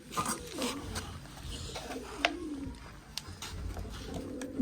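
Low pigeon coos rumble on and off over a busy background of rustling and scattered clicks as the pigeons are fed grain, fairly close.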